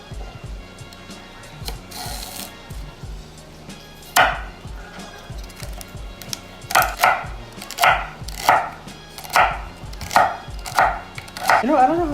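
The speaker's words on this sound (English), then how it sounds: "Then go ahead and cut up some celery." A knife chops celery on a cutting board in a home kitchen, a run of crisp, evenly spaced close thunks after a few scattered knocks, with no talk.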